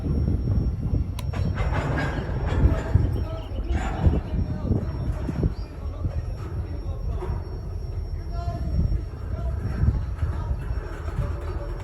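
A freight train creeps forward at a grade crossing with a low, steady rumble and occasional clanks and squeals, while a voice talks over it and birds chirp faintly.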